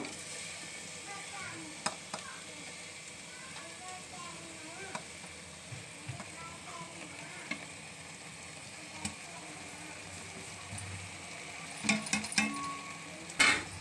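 A spoon scrapes and stirs carrot halwa with sugar and khoa in a pan, producing soft, irregular clicks and faint sizzling, with a few sharper clinks toward the end.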